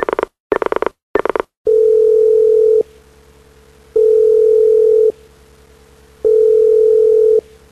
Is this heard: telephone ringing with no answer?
yes